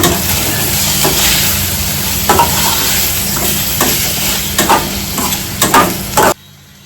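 Mushroom masala fries in a pan with a steady loud sizzle, broken by repeated scraping stirs with a spoon, and the sound cuts off abruptly at the end.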